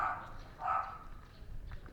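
A dog barks in two short bursts somewhere outside, heard over a steady low street rumble during a delivery ride, with a faint voice in the background.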